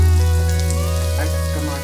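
Onion frying in oil in a pan for masala Maggi noodles, giving a steady close hiss and crackle with a continuous low hum beneath it and no talk.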